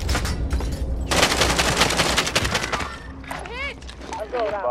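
Rapid bursts of automatic gunfire in a shooter video game, dense and sharp for a couple of seconds before easing off, with voices calling out over the shooting.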